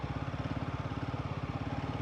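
A motorcycle engine on a dusty Ladakh mountain road chugs in a steady, fast, even rhythm, loud and close, with wind and road noise filling the background.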